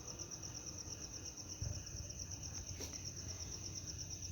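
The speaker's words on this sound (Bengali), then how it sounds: "রাত্রিবেলা এই ঝিঝি পোকার ডাকটা শুনছেন?" Crickets chirping at night, a continuous high, evenly pulsing trill that carries on faintly in the background with a soft thump partway through.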